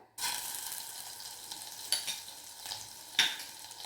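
A spoonful of butter hits a hot pan for tomato soup and starts sizzling at once, a bright, close hiss with a couple of sharper pops as it melts.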